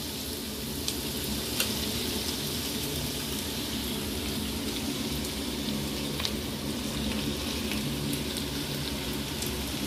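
Chowmein noodles stir-fried with boiled beans and carrots in a hot pan give a steady, dense sizzle with faint scraping stirs, close and continuous throughout with no talk.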